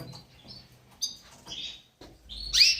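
A small pet canary or budgerigar gives a few short, high chirps and tweets close by, interspersed with soft rustling and shuffling sounds.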